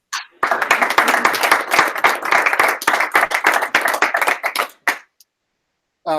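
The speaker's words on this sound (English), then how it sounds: "Did you hear the applause?" Audience applause after a technical conference talk, crisp close claps from a modest crowd forming a dense burst for about four and a half seconds, then stopping abruptly into near silence.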